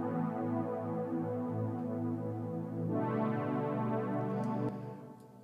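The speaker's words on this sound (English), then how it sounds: "The pads sounds like this." Layered synthesizer pads from a song mix swell in a thick, sustained wash of held chords that shifts to a brighter voicing midway, steady and fairly loud, with no voices over it.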